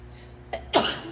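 A person sneezes nearby, a short weak burst followed by a louder, fuller sneeze, in a quiet indoor room.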